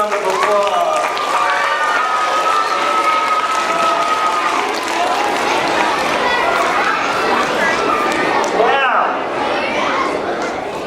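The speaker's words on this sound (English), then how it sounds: "So give yourself another round of applause." Elementary school assembly audience of children applauding steadily, a dense, continuous clapping wash with excited kid voices and chatter mixed in throughout.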